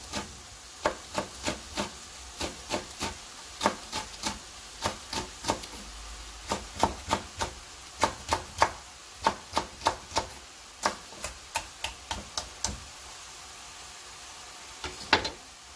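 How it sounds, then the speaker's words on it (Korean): Cheongyang chili peppers being sliced with a knife on a cutting board, with a long run of crisp, evenly paced chops that pause briefly near the end before a last few cuts, close and clear with no talking. "청양고추 4개"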